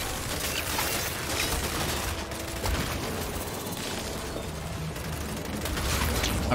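Sustained, dense gunfire in the Gears 5 video game as shots are aimed at an enemy, a loud continuous clatter of rapid shots and mechanical noise with no pauses throughout.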